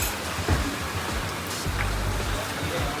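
Steady rain patters and hisses continuously, with a broad wash of noise and a few soft low thumps underneath.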